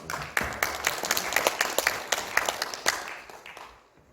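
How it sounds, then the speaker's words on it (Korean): An audience applauds at a forum marking the 73rd anniversary of the Yeosu-Suncheon uprising, a dense, steady clapping burst lasting a few seconds before tapering off into quiet, with no voices over it. "박수 부탁드리겠습니다."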